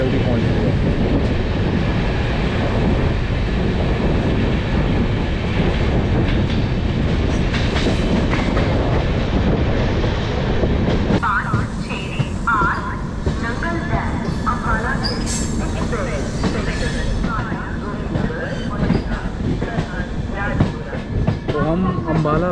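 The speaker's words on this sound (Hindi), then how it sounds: "ट्रेन देखो भाई कितनी जल्दी पहुँच रही है" An express train runs on its rails toward Ambala, giving a loud, constant rumble with rhythmic wheel clatter; partway through the tone shifts as voices and onboard clatter come through over the running noise.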